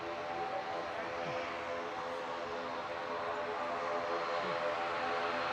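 An ATR 72 turboprop airliner gives a steady, moderately distant engine drone at an airport, with a faint propeller hum holding level throughout and no voices.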